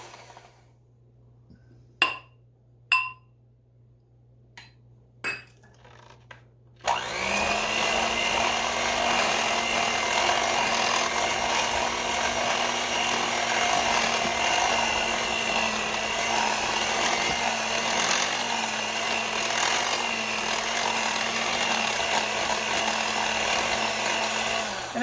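Electric mixer beaters on low whir steadily through butter and powdered sugar, a constant motor drone lasting about eighteen seconds after several sharp knocks and taps in near silence.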